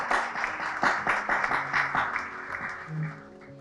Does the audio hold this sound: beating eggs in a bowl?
no